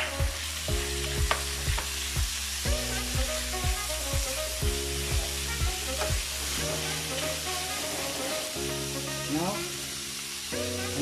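Pork frying in a hot pan for a sautéed bitter gourd dish, with loud steady sizzling and repeated stirring clatters throughout, up close.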